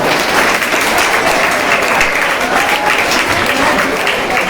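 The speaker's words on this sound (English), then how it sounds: "a huge round of applause for each and every one" Sustained, dense audience applause fills a school hall at a declamation competition, loud and steady from start to finish with only faint voices beneath it.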